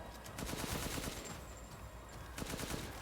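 Rapid submachine-gun fire in Resident Evil Village, with dense automatic bursts rattling close and loud across the whole stretch, broken by a short lull before another burst.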